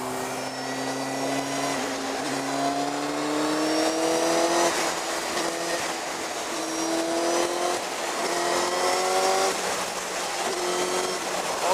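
A Kawasaki Ninja ZX9R streetfighter with raised handlebars on its first test ride, its engine droning and rising through revs in repeated upshifting sweeps, loud and close with steady wind rush and no talk.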